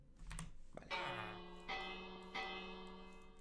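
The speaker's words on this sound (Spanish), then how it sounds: "Aquí una campana. Tocamos la campana." A village bell in the video game Minecraft is struck three times in slow succession, each clear ringing chime decaying before the next, fairly close and alone.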